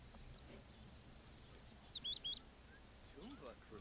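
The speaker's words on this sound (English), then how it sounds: "The little peeps sound so cute." Chicks peeping in the Sims 4 video game: a quick run of about eight high, thin chirps in a row, faint against a quiet background with soft murmuring.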